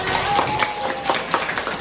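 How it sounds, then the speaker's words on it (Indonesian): Classmates clap for a student named Tasya in a microteaching class, a short burst of scattered, uneven hand claps close by, filling the room briefly without voices. "beri tepuk tangan untuk Tasya"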